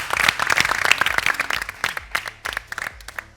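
A short burst of TV game show studio audience clapping, uneven and irregular, with some crowd noise and a few louder claps toward the end.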